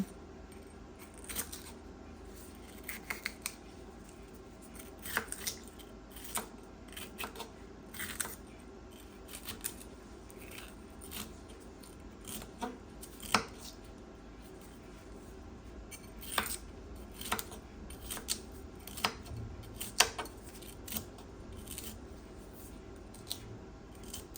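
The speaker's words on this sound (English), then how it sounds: "So I also have a half of a green pepper. Chop that up also." Half a green pepper chopped on a cutting board: a long run of sharp, irregular knife taps, some close and crisp, others softer, spread steadily throughout.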